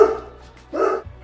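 Two loud, close dog barks sound about half a second apart indoors, the second a little fuller, with a low background hum.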